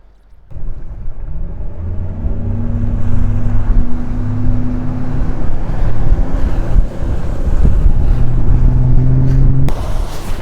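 A bass boat on Toledo Bend speeds off across the lake with a loud, steady outboard engine drone, while wind buffets the microphone and water rushes past the hull.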